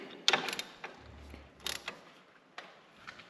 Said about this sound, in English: Tighten these couple bolts up here.